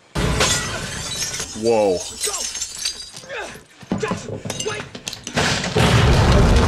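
Rifle grenades blast through first-floor windows in a Band of Brothers war scene, bringing loud glass shattering and bursts of explosion noise across the whole stretch while a person reacts with a brief exclamation.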